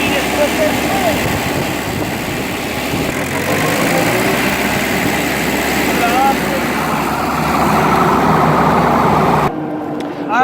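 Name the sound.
Shibaura D43F tractor engine running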